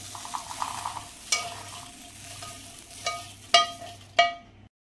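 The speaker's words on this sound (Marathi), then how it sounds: "गॅसवर असे परतून घेते" Green peas sizzle softly as they are sautéed in a pan over a gas flame, with a spoon scraping and stirring in several sharp, distinct strokes. The sounds are close and at moderate volume, with no talking.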